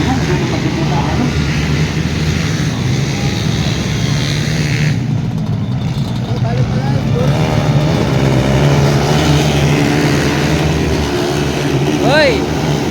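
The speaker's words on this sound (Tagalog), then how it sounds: "Ganito pala kalakas ng ating underbone na yan." Underbone motorcycles in an open-class race heat, engines roaring continuously and loudly with revving surges, beneath a noisy crowd and an announcer's voice.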